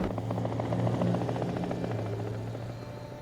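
A helicopter in a film excerpt about prison thunders loud and close, its rotor chop pulsing steadily and then easing slightly toward the end.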